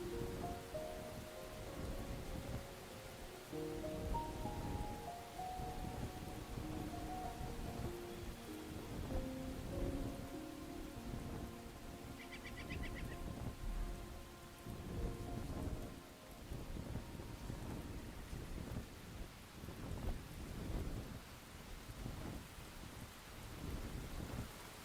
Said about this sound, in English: It's raining, so our stamina is going to be worse because of that